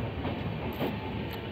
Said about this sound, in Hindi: अजमेर जंक्शन को हम छोड़ रहे हैं धीरे धीरे